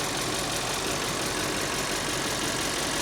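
A Corvette engine idles with a steady, dense rumble, loud and close, holding constant throughout with no voices.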